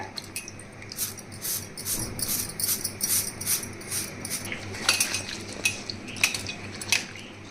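Bitter gourds scrubbed clean with a brush at home, giving soft repeated scratchy bristle strokes with light clinks of a bowl or utensil, close and steady, with no talk.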